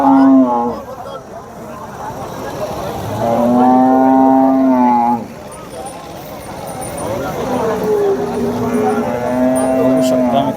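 Jersey dairy cows at a village cattle market in Vadod, Phulambri, Chhatrapati Sambhajinagar, give loud, long moos, one after another, close by, with steady market chatter underneath.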